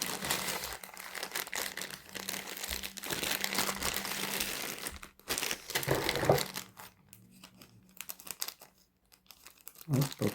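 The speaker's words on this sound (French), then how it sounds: "je vais vous déballer ça." A Temu package is unwrapped, its plastic packaging crinkling and tearing up close in long rustling bursts with brief pauses, fairly quiet overall.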